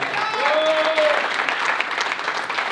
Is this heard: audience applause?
yes